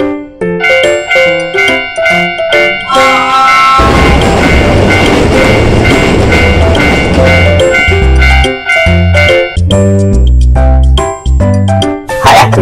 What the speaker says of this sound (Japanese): すぐ電車が来るよ。